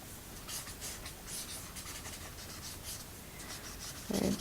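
A Promarker chisel-tip marker scratches and scrapes across paper in short, repeated strokes, close and quiet, ending in a slightly louder rub.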